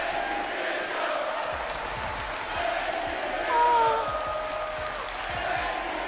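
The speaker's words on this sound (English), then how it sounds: "the crowd gave him the standing ovation he had always deserved." Wrestling arena crowd giving a standing ovation, a dense sustained roar of cheering and applause with a swell in the middle, under a voice.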